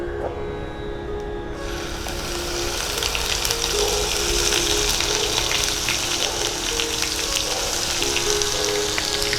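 Onion paste hits hot mustard oil that was used for frying fish and spiced with radhuni, bursting into a loud, steady hiss and crackle that stays continuous close by.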